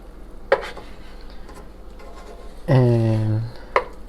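Soft sizzle of an onion omelette cooking in a pan, punctuated by sharp utensil clicks and a brief louder scrape-and-sizzle burst as the omelette is flipped, then another clack.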